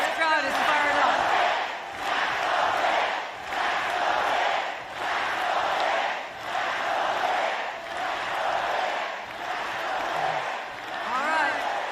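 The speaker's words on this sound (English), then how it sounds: "This crowd is fired up." A fired-up crowd at a political rally chants and cheers in loud, steady waves, rising and dipping in a regular rhythm throughout, with a few voices standing out near the start and end.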